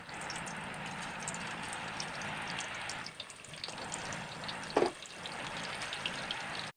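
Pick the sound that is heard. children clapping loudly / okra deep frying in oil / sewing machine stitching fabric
okra deep frying in oil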